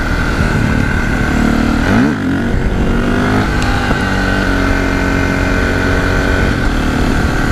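KTM 525 motorcycle engine droning steadily in third gear while riding, a loud continuous roar with a brief dip and pitch swing partway through, no voices.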